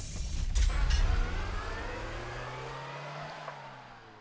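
A car engine, added as a sound effect, rumbling loudly at first and then settling into a smooth, fading drive-away hum with a slowly shifting pitch, heard on its own.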